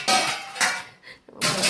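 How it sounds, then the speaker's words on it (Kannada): Washed metal cooking pots and vessels being stacked and set down, giving a few loud clanks and rattles in quick succession with a short pause between. "ಮಗು ಪಾತ್ರೆ ತೊಳೆದು ಪಾತ್ರೆ ಜೋಡಿಸ್ತಾ ಇದ್ದೆ"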